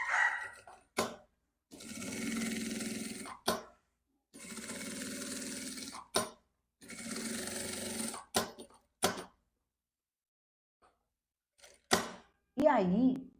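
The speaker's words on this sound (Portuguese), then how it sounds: "Vou fazer essa costura dos dois lados." A sewing machine stitches a seam on a fabric box, running in three steady bursts of a few seconds each, separated by short clicks and pauses, with a brief bit of talk at the very end.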